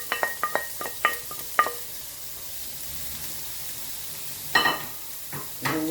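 Onions being added to butter and oil in a pan for a veal steak dish, a soft, steady sizzle under a burst of sharp metallic clinks and scrapes at the start and again near the end, fairly quiet overall.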